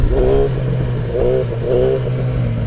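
A 1000cc motorcycle accelerates hard in second gear for a wheelie, loud steady engine roar with rising revving surges heard up close, without any talking.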